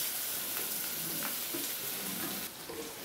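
Capsicum cooking in a pan, a steady close sizzle and crackle of frying with faint scraping stirs, continuous and fairly quiet throughout.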